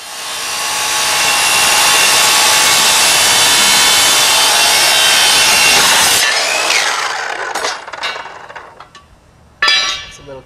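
Power saw cutting metal for welded battery boxes, a loud continuous high-pitched grinding screech for about six seconds that winds down, followed by a few clanks and a short sharp burst at the end.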